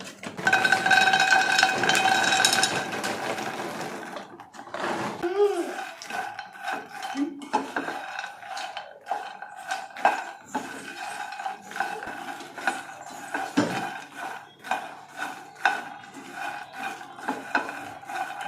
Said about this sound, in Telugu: ఫస్ట్ ఆయిల్ ఏం యాడ్ చేయకూడదు డైరెక్ట్గా మఖానా ఫ్రై చేసుకోవాలి